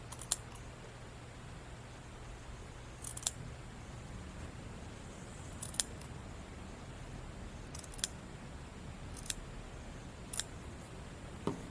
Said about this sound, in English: I'm taking the underneath blade and just trying to go and part the hair so that I'm only cutting the fabric